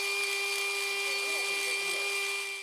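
A rotary tool grinding the intake port of a Honda CD50 cylinder head, a steady high-pitched whine with a rough edge, held continuously and close for under three seconds.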